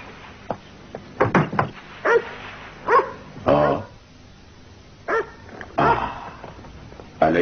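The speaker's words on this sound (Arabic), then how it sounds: "أليس هذا نباح كلب يا مونوز؟ نعم، نباح كلب." A dog in an old animated cartoon barks in short, sharp bursts, a few clustered yips and then more barks after a pause, fairly close and loud.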